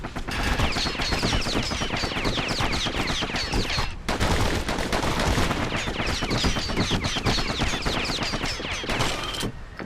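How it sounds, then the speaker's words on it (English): Dual slinger pistol gunfire in the video game Bastion, dense rapid shots in a continuous barrage with a brief pause near the middle, loud and close. "Know what's better than having a slinger pistol in a fight? Having two."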